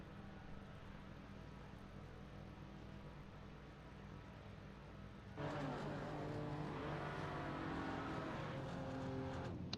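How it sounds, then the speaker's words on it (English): Race cars of the Chasing the Delta series surge forward as the pace car pulls off, a steady engine drone jumping at about five seconds into loud, layered revving with rising and falling pitch sweeps that hold to the end. "As the lights begin, and our pace car will take off."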